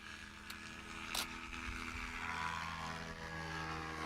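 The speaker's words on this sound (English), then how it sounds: "And Al Force One in the Kolb taking off again" A Kolb light aircraft takes off at a fly-in airfield, its propeller engine droning steadily at moderate distance over constant background noise, with a brief sharp burst partway through.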